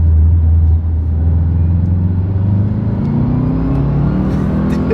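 A Subaru WRX accelerating hard, its engine revving up steadily through the gears with a loud, close, rumbling exhaust note and no talk.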